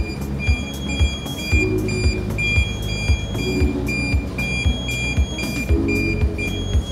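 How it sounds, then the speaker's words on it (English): A ship's bridge gyro alarm sounds in repeated regular electronic beeps, loud and close, pulsing steadily about twice a second over a low hum of bridge equipment. "okay, gyro alarm still was there."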